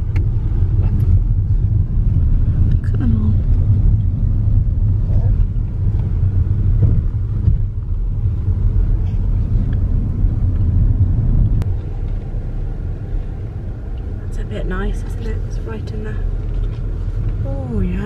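A car drives steadily along a country road, its engine and road rumble forming a constant low drone with wind buffeting, while people talk over it and a brief animal-like call rises near the end.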